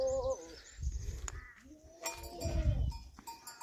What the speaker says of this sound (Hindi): यहाँ पे है बकरी हमारे पास